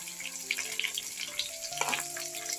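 Carrot, potato, beans and green chillies fry in a pan for vegetable biryani, giving a close, steady sizzle with crackling pops and a faint tonal hum in the background.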